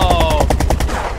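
Rapid automatic gunfire from an aircraft in Brick Rigs, a LEGO-style battle game, fires as a fast, steady burst of about ten shots per second. It is loud and close, then fades slightly near the end.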